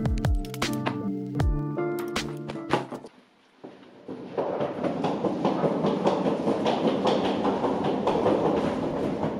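A train rumbles steadily along the rails with a continuous rolling roar, preceded by a brief burst of musical tones and a short lull.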